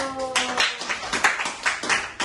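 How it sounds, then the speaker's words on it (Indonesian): A small counseling group of students claps hands together in a classroom, a brief burst of scattered, moderately loud claps with faint voices behind. "Boleh tepuk tangan dulu"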